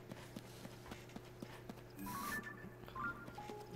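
A horse's hooves clip-clop at a steady walking rhythm in Zelda: Tears of the Kingdom, faint and even, joined midway by a whinny and a brief burst of game effects.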